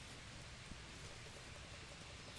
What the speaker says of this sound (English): Just like I thought, it's raining